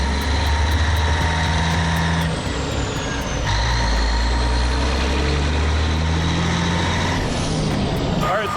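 A semi truck idles steadily while building air pressure, its low diesel rumble constant and close, with faint high whistles and hisses from the air system riding on top.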